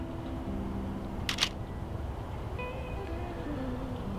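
A DSLR shutter fires once in a quick, sharp mechanical double click against a quiet indoor background hum.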